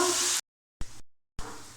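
Loud sizzling of potatoes with salt and turmeric frying in hot mustard oil, heard in three short bursts separated by abrupt silent gaps.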